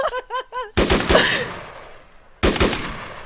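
Arma 3 gunfire cracks out in two sharp reports, the first with a long decaying echo and the second after a pause, loud and close, preceded by a few short tonal calls.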